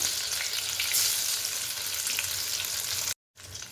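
Masala brinjal (eggplant) slices fry in a pan with a steady, loud, close sizzle throughout, briefly cutting out near the end before resuming.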